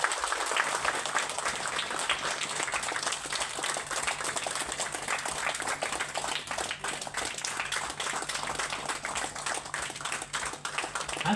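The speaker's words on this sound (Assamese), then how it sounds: "তালি কমজোৰি হ'ব নিদিব" Audience applause at a Christmas Eve gathering, a dense, sustained wash of many hands clapping steadily throughout, loud and close with no pauses.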